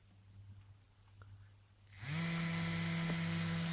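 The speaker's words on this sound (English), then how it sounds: "the DC motor goes on, and when the temperature drops back down again, it switches off." Small DC motor driven through an NPN transistor switch by an Arduino temperature sensor, starting abruptly after a quiet pause into a loud, steady high-pitched buzzing whine that runs unbroken to the end.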